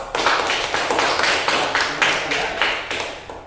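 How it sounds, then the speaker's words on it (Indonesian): A classroom of students gives a steady round of applause after a group's presentation, many hands clapping at close range with an even, sustained rhythm. "kita berikan aplaus untuk kelompok 2"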